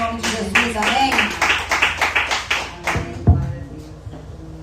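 A church congregation claps in rhythm, a string of distinct sharp hand claps pulsing steadily for a few seconds before thinning out, with voices audible alongside.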